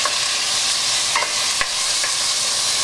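Pork cubes frying with onions in a pan give a loud, constant crackling sizzle, broken by a few sharp clicks and scrapes of stirring, with no voices.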